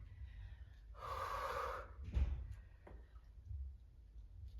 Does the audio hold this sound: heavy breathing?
yes